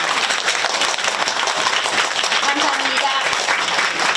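A Korean community gathering welcoming a former foundation chairman fills with warm, continuous audience applause, with a voice speaking briefly over the clapping.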